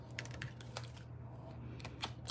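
Tarot cards are shuffled by hand in quick, light riffling taps and clicks, close and soft over a low steady hum, with no one speaking.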